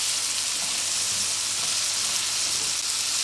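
Pork medallions frying in a pan, a dense, even sizzle held steady and fairly loud throughout.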